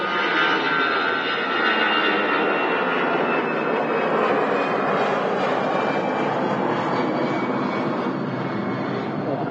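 An EasyJet jet airliner roars down the runway and lifts off from Manchester Airport, a loud, steady broadband engine rumble that fills the whole stretch with no break.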